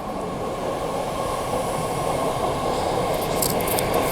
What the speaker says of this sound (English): okay, here's the train.